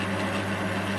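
A home-made lathe spins at 460 rpm with a smooth, steady mechanical hum and a low drone, even and uninterrupted throughout.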